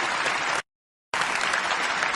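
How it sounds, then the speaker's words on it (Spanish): Applause from an audience at a law lecture on human rights and criminal law, dense steady clapping interrupted by a short silent gap before resuming. "Anita, los aplausos, por favor, para Isaac."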